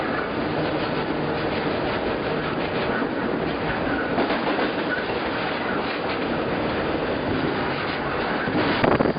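A double-stack freight train rolls steadily past up close near Willard, its continuous rumble and clattering wheels mixed with wind buffeting the microphone, alone with no talk.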